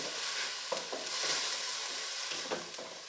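Onion puree fries in oil for a mutton masala, giving a dense, even sizzle up close with a few soft spoon knocks and scrapes scattered through it.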